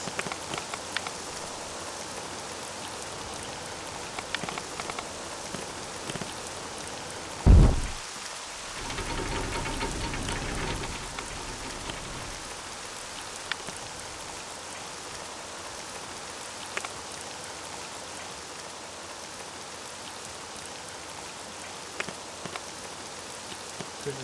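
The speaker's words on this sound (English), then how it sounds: "Because it's raining." Steady rain falling on surfaces fills the whole stretch as a dense, even hiss, with a brief louder thump partway through before the downpour carries on unchanged.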